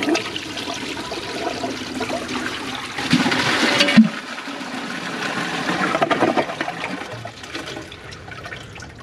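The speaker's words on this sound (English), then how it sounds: "Flush 6. Let's see if it can take the rest of it" A Kohler Wellworth Class 5 toilet with a Portrait Lite tank flushing during a clog test, a loud rushing gush of water that swells, then settles into a steady refill and trickle.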